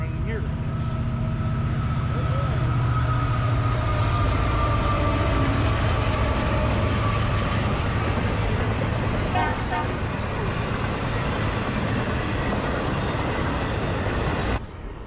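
A train rumbles past continuously with a steady mechanical roar, and a horn toots a few times; no talking.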